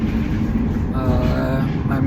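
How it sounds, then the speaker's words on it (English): Steady interior rumble of a moving tram, a broad low drone with rattling and rolling hum, continuous and fairly loud throughout with a faint voice murmuring beneath. "Actually, this tram. I'm in tram now."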